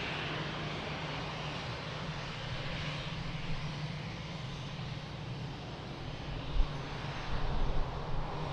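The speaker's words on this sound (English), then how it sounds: "Baby Airbus, indeed, 319." Airbus A319 jet engines roaring steadily at Lisbon Airport, a broad continuous rumble that swells slightly louder near the end, with no voices.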